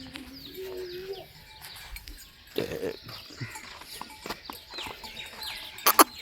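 Chickens cluck and chirp intermittently in a quiet yard, with a few short sharper calls and a brief louder burst near the end.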